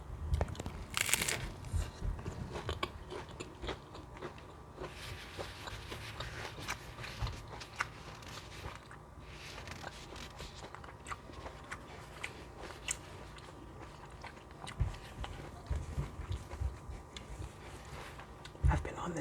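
Close, crisp crunching and chewing of Doritos Locos tacos, with irregular bites and crackling shell throughout, plus soft rustling and quiet breathy sounds near the microphone, no clear talking.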